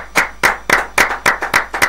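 Close, crisp hand claps on a live radio broadcast, about eight sharp claps at a brisk, even beat, loud and dry with no other sound between them.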